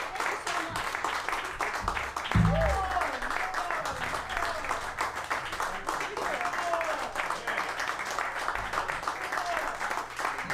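A small live audience at a concert applauds with steady clapping and some whoops, while voices speak over it.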